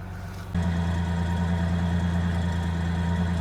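A 2000 Ford Ranger pickup, recovered from a farm, starts up and settles into a steady, loud idle with a low, even rumble close by, and no one talks over it.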